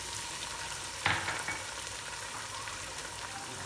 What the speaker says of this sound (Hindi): इसके अंदर 2 टेबलस्पून भर के जिंजर गार्लिक पेस्ट